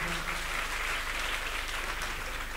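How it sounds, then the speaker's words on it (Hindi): A crowd at a Manas devotional singing performance claps in steady, even applause that fills the space at moderate loudness for a few seconds. "एक बार भाई के नाम में ताली हो जाए।"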